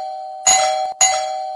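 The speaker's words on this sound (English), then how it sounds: "You mean the doorbell?" A doorbell gives two bright electronic chimes about half a second apart over a faint steady background hum, loud and close with no voices.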